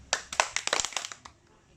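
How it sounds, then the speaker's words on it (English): A small group claps hands together at the close of a gathering, a brief burst of scattered, overlapping claps that quickly fades out. "and clap"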